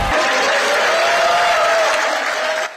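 Supporters at the Democratic Party election camp on exit-poll night break into sustained applause and cheering, a dense, loud wash of clapping and crowd voices with a faint tonal whistle running through it.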